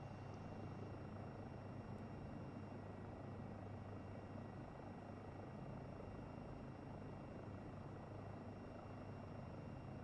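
A helicopter in a flight simulator game, flying over Hungary, drones with a steady, dense rotor and turbine roar that fills the whole stretch without pause.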